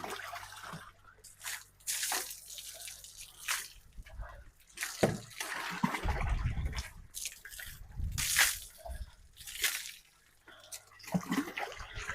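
Water poured over a horse while it is washed down after a workout, the legs doused thoroughly: irregular close splashes, trickles and drips in uneven bursts, with faint voices now and then.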